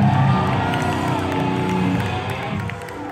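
A crowd at a San Francisco metal concert cheers and whoops loudly throughout, a dense, close wall of shouting that eases slightly toward the end.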